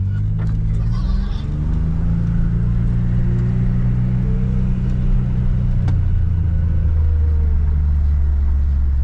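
A 2023 John Deere Gator 835R utility vehicle drives along with a loud, steady low engine rumble that stays close and continuous throughout, with faint rattles on top and no speech.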